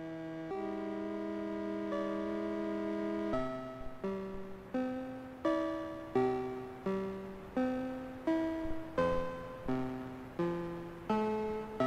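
Gentle, nostalgic Minecraft instrumental music: soft sustained chords give way to a steady sequence of plucked, piano-like notes that ring and fade, calm and unhurried.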